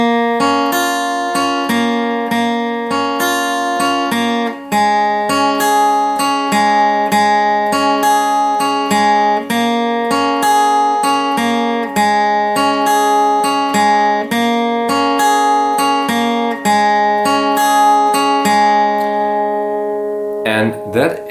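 Guitar picking an arpeggiated riff, plucked notes in a steady repeating pattern played slowly and clearly on their own, closing on a ringing final note.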